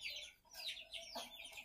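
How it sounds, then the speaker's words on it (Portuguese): Chickens cluck softly in short, choppy bursts, fairly close, with no talking. "Aqui, a galinha tá ali batendo nos outros."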